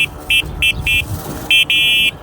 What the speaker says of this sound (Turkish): Kornayı deneyelim mi?